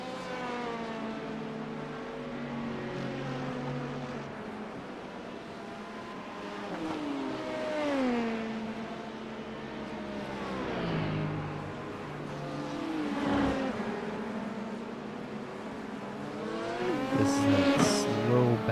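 An LMP2 prototype race car engine in the iRacing sim during an IMSA race, howling at high revs. It rises and falls through repeated upshifts and downshifts, loud and continuous with no talking.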